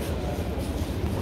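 Train at a railway station in Stockholm, Sweden, a brief low rumbling of rolling wheels and carriage noise, steady and close, with no voices.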